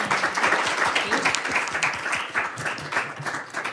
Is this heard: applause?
yes